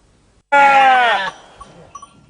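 A sheep gives one loud, close bleat lasting under a second during shearing work, followed by faint rustling and handling noises.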